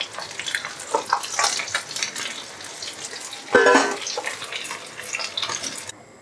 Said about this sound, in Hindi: इसी तरीके से बाकी बचे भी हम फिश को फ्राई कर लेंगे